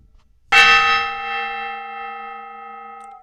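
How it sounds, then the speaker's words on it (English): A decorative gong struck once, a sharp metallic hit that rings out with a bright, sustained shimmer of overtones, slowly fading over about three seconds with nothing else heard. "It's time to hit that gong."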